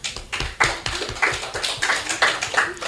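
A small group of scouts claps in a brisk, regular rhythm, each sharp clap close and distinct, repeating steadily across the stretch.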